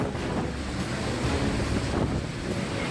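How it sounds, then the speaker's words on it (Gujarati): High sea waves pound the Odisha coast during Cyclone Amphan, a dense unbroken roar of surf mixed with heavy wind rumbling against the microphone. "દરિયામાં ઊંચા ઊંચા મોજા ઉછળી રહ્યા છે."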